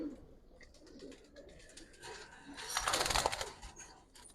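Giribaz pigeons of a Palla-line flock coo softly nearby, low throaty calls with light rustling that swell briefly toward the middle before fading.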